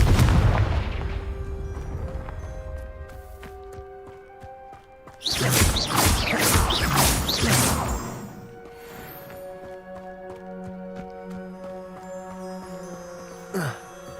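A Confringo blasting spell goes off in the Hogwarts Legacy video game, a loud burst of crackling explosions lasting a few seconds amid game music, with a sharp smaller blast near the end.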